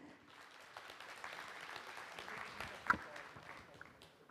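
Audience applause at the opening ceremony of Korea's 2022 Quantum Information Week, a soft, steady patter of many hands clapping at moderate distance throughout, with a few sharper claps standing out.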